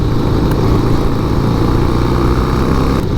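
Harley-Davidson Sportster engine running steadily while riding in third gear on a four-speed bike, a loud continuous low rumble with wind noise and no pauses.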